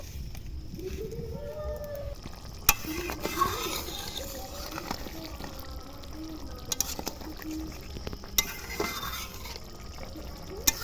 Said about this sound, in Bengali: এবার দেব ভেজে রাখা পটল একটুখানি ফোটার টাইম দেবো